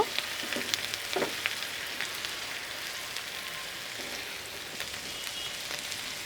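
Onion paste fries in a pan for a mustard hilsa dish, making a steady, soft sizzle with faint crackles and occasional stirring scrapes close by.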